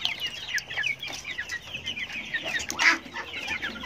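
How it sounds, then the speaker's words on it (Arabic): Chickens clucking steadily around a water drinker, several birds close by in a rapid overlapping chatter with a louder squawk near the end, no talking. "الفراخ ما شاء الله بدات تشرب لنا اهي زي ما انتم شايفين"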